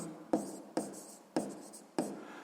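A pen writes numbers on paper in four short, distinct bursts of scratching, each with a sharp start that fades, close and quiet with no talking.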